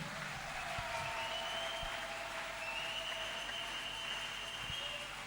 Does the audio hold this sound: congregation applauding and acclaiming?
yes